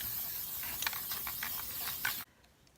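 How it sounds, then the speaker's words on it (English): A steady, close hiss of an aerosol spray paint can sounds continuously for about two seconds outdoors, then cuts off abruptly into near silence. "I'm outside, and I'm going to spray paint them."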